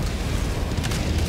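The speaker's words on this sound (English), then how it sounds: "Cluster bomb!" Cluster bomb detonating in the video game Helldivers 2, a dense, continuous rumbling wash of overlapping blasts lasting over a second, loud and broadband with no clear gaps between impacts.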